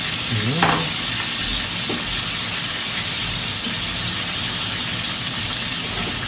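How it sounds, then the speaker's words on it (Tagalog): Onion, garlic and vegetables sauté in a pan with a constant close hiss and sizzle, interrupted by an early stirring scrape. "Igisa lang kaunti."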